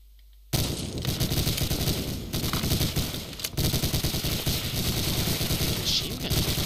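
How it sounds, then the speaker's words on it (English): Machine gun fire in Medal of Honor Allied Assault, starting abruptly after a brief silence and then a sustained, loud, rapid stream of shots that carries on almost without a break, close up. "Machine gun."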